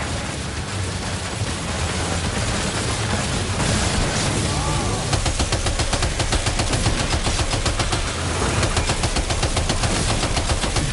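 Sustained loud gunfire from the video game Death Stranding 2, dense rapid bursts and shots layered over a constant wash of background noise throughout.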